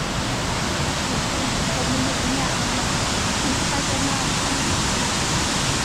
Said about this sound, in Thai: น้ำตกตาดน้ำเฮียนนะ